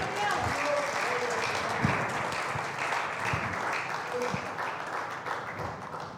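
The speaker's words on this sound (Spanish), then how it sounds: "Denle un aplauso al Rey con todo el corazón." A church congregation applauds during a sermon, a steady wash of clapping that holds for several seconds with a few louder individual claps and faint voices mixed in.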